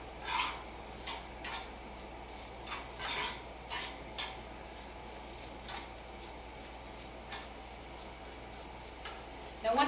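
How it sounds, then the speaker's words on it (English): Apples with cinnamon sautéing in a pan for turnovers, a soft steady sizzle beneath intermittent stirring scrapes and utensil clinks, close and moderately quiet. "Now we'll just saute these until they're caramelized"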